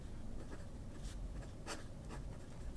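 A fine-nib pen scratches across the paper of a grid journal, a quiet, steady scratching broken by brief strokes and pauses, close and alone.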